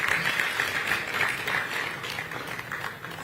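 Conference audience at a mining dialogue applauding a speaker, a dense, continuous patter of many hands clapping at moderate volume with no talking on top.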